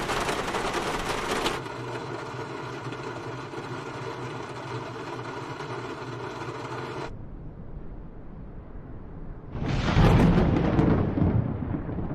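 A deep, sustained rumble of thunder from Microsoft Flight Simulator 2020 rolls on, cuts off abruptly, then a louder crackling burst of storm noise swells near the end.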